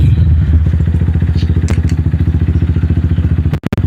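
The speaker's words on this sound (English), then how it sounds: "Even I give it gas, the bike's not going to go forward because I have the clutch pulled in." A motorcycle engine revs steadily with the clutch pulled in, a loud, close, throbbing idle-to-rev drone with a fast pulsing rhythm, ending in a couple of sharp clicks or knocks.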